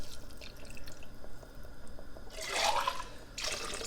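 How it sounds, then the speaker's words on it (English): Water splashes in short pours into a big pot of chili on a stove, with two brief bursts of liquid after quieter drips and background rumble. "I am going to add some water because I meant to put that stock in these cans"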